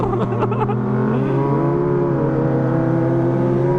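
A Kawasaki ZX25R sport motorcycle with an aftermarket exhaust revs loudly to the limiter, raspy exhaust, pitch rising and settling into a steady high drone, heard up close.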